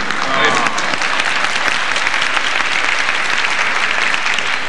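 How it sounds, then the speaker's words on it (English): Loud, sustained applause from a large audience at a music teachers' concert in a concert hall, dense clapping filling the space evenly throughout, with voices mixed in underneath. "See, the dealers are down here applauding."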